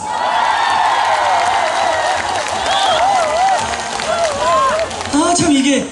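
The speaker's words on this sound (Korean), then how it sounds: "박수 한번 주세요" A crowd at a live trot music concert in Cheongyang claps and cheers loudly, with whoops and excited voices rising over the applause and a voice talking through it.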